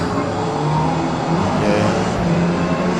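A race car engine roars steadily at the launch of a Forza Motorsport race at Circuit de Spa, with a loud, dense droning rev and other cars blending in and no clear pauses.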